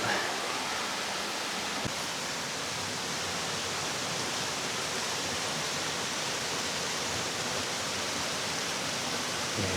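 A waterfall and stream flowing down Kelburn Glen near Fairlie, Scotland make a steady, loud, broadband rush of water that continues without a break, close to the listener and free of talk.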